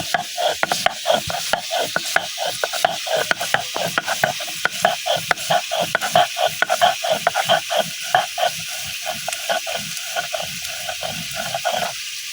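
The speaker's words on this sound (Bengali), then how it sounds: "এখন আদা দিয়ে বাইটা লইতেছি" Ginger and cumin being ground by hand on a grinding stone, a rapid, rhythmic scraping and rubbing repeated steadily for several seconds, close and fairly loud.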